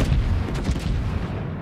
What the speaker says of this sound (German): Alle Granaten mal rausgeballert